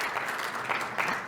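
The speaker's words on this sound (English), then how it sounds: "let's give a round of applause to our panelists, Marina, Latha, Carmen, and Doreen." Steady applause from a conference audience after a panel discussion, a dense, even patter of clapping throughout the short stretch.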